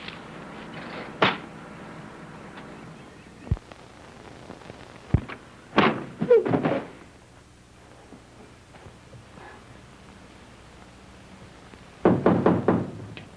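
Knocking on a door in a 1975 film scene: a few sharp, loud raps early on, then a tighter cluster midway and a final rapid burst of knocks near the end, separated by quiet room tone.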